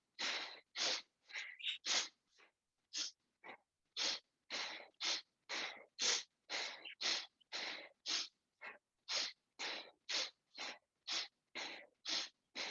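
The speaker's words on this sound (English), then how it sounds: "push the belly in, push the air out, all through the nose." Rapid, forceful nasal breathing exercise with sharp puffs of air pushed out through the nose in a quick, steady rhythm. About two dozen close, loud bursts come with only brief pauses.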